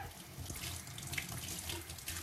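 Water running from a household tap in a steady, even rush that fills the whole stretch, close and continuous with no voices.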